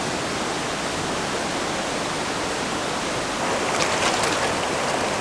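River rapids and a waterfall, a loud, steady broadband rush of churning water that continues unbroken and swells slightly near the end.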